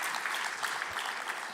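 An audience at a corporate annual general meeting's opening ceremony gives a short, faint burst of steady clapping.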